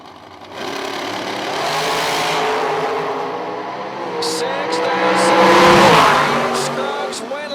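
Drag race cars at a Midwest bracket racing nationals roar through a launch, engine noise rising and swelling loudly for several seconds while an announcer talks over it.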